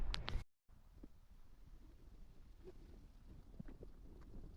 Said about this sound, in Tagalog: Grabe ang hangin, guys. Ang hangin. Ang lamig.